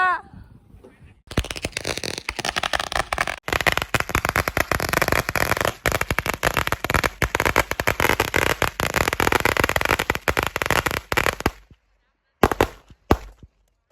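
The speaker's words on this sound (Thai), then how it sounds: "จุดประทัดแล้วฮะ" Strings of firecrackers set off outdoors at a Qingming ancestor-worship gathering in Thailand: a loud, dense, crackling barrage of rapid pops that runs for about ten seconds, then stops and is followed by a few short final bursts.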